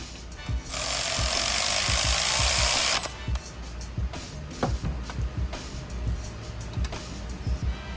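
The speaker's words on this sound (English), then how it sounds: "taking your M5 or your 5mm hex socket, tighten them down to 12 foot-pounds." A power driver with a 5mm hex socket tightens bolts on an RC truck rear axle. It runs in a loud, steady burst of about two seconds, followed by scattered clicks and taps of handling parts nearby.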